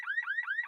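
Car alarm from an advert, sounding alone as a rapid rising electronic whoop repeated about four times in quick succession, clear and close.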